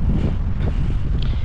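Cold, icy wind roaring steadily against the microphone outdoors among trees, loud and unbroken throughout.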